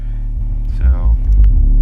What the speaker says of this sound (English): Still makes some pretty good sound, even without the passive radiator in it.